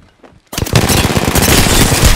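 Automatic gunfire in the video game Apex Legends bursts in after half a second of near silence, a loud, dense, rapid stream of shots that continues to the end.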